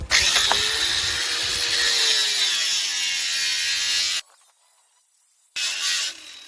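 A 16-grit abrasive grinds hard against a steel dagger blade, throwing sparks: a loud, steady, hissing grind for about four seconds, a short pause, then a brief second burst.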